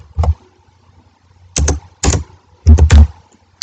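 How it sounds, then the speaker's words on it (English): Keys on a computer keyboard are struck a few times in a close, sparse run: a single tap, then a couple of paired clacks and a final louder double press, in a quiet room without speech. "So I'm going to press the enter key on keyboard."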